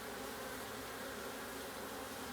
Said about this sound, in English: a bee party, when he heard a lot of noise coming from here